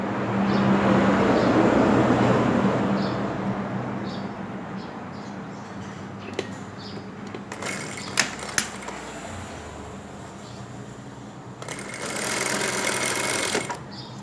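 A sewing machine stitches fabric during a garment repair, giving a steady, close whirring run that quiets midway, with a few sharp clicks, then picks up again near the end.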